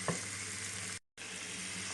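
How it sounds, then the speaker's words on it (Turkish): Finely diced meat for tantuni sizzles steadily in a hot pan, a dense continuous frying hiss that cuts out briefly and resumes, with no voices. "Güzelce rengi dönene kadar kavuruyoruz."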